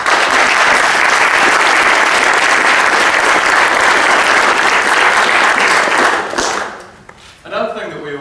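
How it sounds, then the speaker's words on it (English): A debate audience in Wellington breaks into loud, sustained applause, a thick wash of many clapping hands that fills the room and then fades out as a voice begins speaking. "so I'd like us to have a round of applause"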